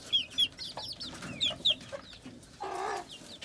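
A flock of leghorn chickens, a rooster and hens, along with orange Rhode Island hens, cluck in a wire-screened coop. Short, bright calls repeat close by in quick, uneven bursts, and a brief rustling noise follows near the end.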